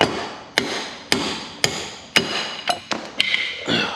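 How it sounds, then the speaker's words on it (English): Sharp hammer blows ring out against a steel wheel hub as an old wheel stud is knocked out, about seven evenly spaced strikes, then quicker lighter taps and a metallic clink, close and loud with no talk. "if I line the stud up right, knock the old stud out"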